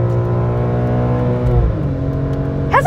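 A BMW E46 M3 engine revs steadily while driving, a loud continuous drone whose pitch sweeps down and back up as a gear shift lands midway, with a brief higher squeal right at the end.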